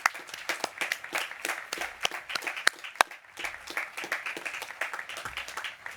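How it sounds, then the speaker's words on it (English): Applause at a graduation ceremony, for the graduates' families: many people clapping together in a dense, steady patter that runs throughout, with a few sharper individual claps standing out. "join me, almost graduates, in a rousing round of applause for your families"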